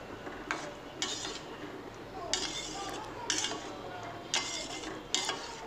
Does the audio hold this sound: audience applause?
no